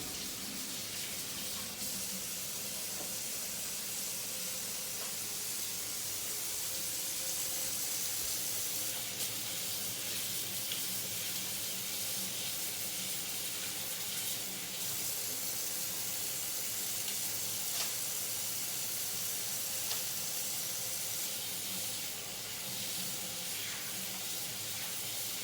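Water runs steadily from a tap during handwashing, a continuous hissing spray that holds close and even throughout with no talking.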